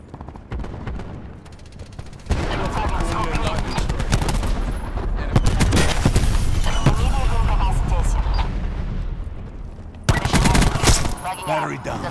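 Call of Duty Black Ops 4 Hardpoint match on the Seaside map, with sustained automatic gunfire and bursts of shots, loud and close, over steady game ambience, with brief voice lines in between.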